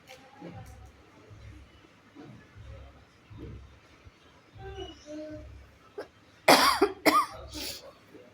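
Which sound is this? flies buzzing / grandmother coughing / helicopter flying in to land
grandmother coughing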